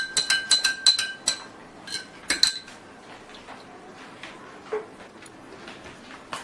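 Metal spoon clinking rapidly against a glass while stirring almond sherbet, a burst of bright repeated clinks early on, then sparse quieter taps.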